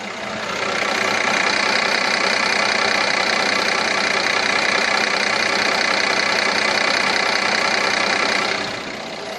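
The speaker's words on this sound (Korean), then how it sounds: "엔진 룸에는 커버에는 V6 자 나 6기통 엔진이야 라고 지금 위에 부착이 되어 있습니다 자 바로 엔진음 한번 들려드리도록 하겠습니다" A second-generation Mercedes-Benz CLS350 BlueEfficiency with a V6 engine idles close by, a loud, steady, even hum that holds unchanged for several seconds before it dies away near the end.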